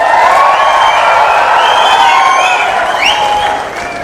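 Loud, sustained applause and cheering from a large crowd at a political meeting for CM Chandrababu, continuous clapping with scattered whoops that fades slightly at the end.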